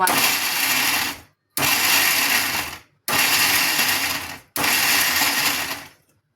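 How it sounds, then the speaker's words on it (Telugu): A kitchen mixer grinder pulses halved green chillies in four loud, close whirring bursts of about a second each, separated by brief silences, with no talking over it. "పచ్చిమిరపకాయలు కూడా ఇలా రెండుగా చేసుకొని మిక్సీ పట్టుకోవాలి"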